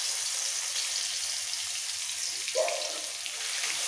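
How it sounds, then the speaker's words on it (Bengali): Whole cumin seeds and a pinch of garlic paste frying in hot oil left after frying fish, producing a steady close sizzling hiss with a brief crackling flare partway through. "এবার এই তেলের মধ্যে ফোড়ন দেব সামান্য একটু গোটা জিরে, আর 1 পিঞ্চ মতো রসুন বাটা।"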